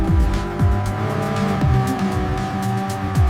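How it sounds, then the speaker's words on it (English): A Porsche 917 race car brakes hard into a turn in a night endurance race, engine note dropping in repeated downshift sweeps with tire squeal and loud, continuous mechanical roar. "Maximum braking approaching turn 4."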